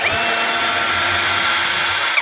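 A GoYwato 21V cordless drill spins at a low torque setting, making a loud, steady, high-pitched whine close by with no talking.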